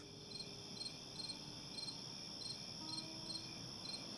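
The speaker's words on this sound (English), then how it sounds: "Seems like a good time for some crickets." Crickets chirp steadily in a quiet setting, with regular pulsing trills repeating over a soft background hiss, fairly faint and with no voices.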